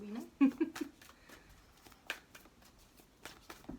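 Playing cards are shuffled close by in quick, soft riffles and snaps, with a voice talking quietly over them.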